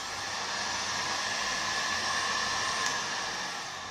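Bosch GHG 180 heat gun blowing steadily on its third setting, a loud, even rushing hiss of fan and airflow that holds constant throughout with no talking.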